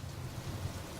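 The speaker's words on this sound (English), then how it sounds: "it's still kind of pouring, raining out there" Heavy rain pours steadily outdoors during a no-start belt replacement on a 2007 Nissan Altima, a dense, even low rumble of downpour with no voices over it.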